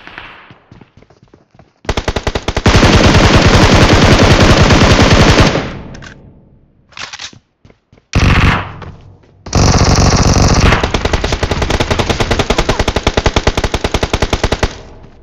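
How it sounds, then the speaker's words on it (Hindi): Loud automatic gunfire from a video game shooter comes in long, dense bursts of rapid shots with short gaps between them, close and harsh, while another weapon fires single spaced shots at the start. "मुझे फायरिंग की आवाज़ भी आ रही होती है"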